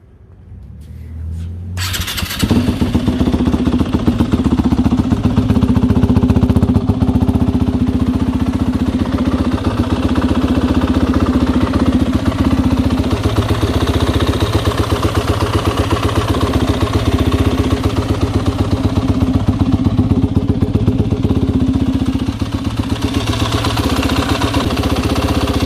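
A 2020 Yamaha WR 250F dirt bike engine fires up after a brief quiet start and settles into a steady, loud, close idle as it warms, running continuously with no talk.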